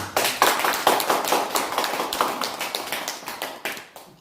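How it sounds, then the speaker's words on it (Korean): A crowd applauding, dense overlapping claps that stay steady and fairly loud, then thin out near the end. "다 밀려줬으니 박수 쳐봐."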